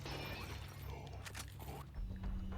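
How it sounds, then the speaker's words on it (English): Glass shatters in Resident Evil 4, a quick bright crash about a second in, set against a low mechanical hum and room ambience. "Break that glass."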